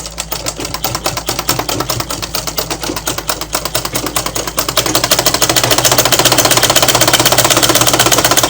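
A sewing machine stitches skirt fabric in a steady, rapid, close mechanical chatter that runs the whole time and grows louder and denser about halfway through.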